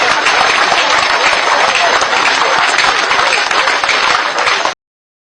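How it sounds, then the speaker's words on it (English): Audience applause at a political gathering, loud, dense, continuous clapping from a large crowd lasting several seconds before cutting off abruptly. "Clap for this economist from Iragbiji."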